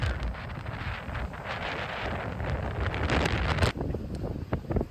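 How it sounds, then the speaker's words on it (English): Strong wind gusting steadily across a Florida beach, roaring into the microphone with rumbling buffeting throughout, swelling louder near the end with brief dips and bursts. "The wind moving the grass back and forth, kind of smoothing out the sand."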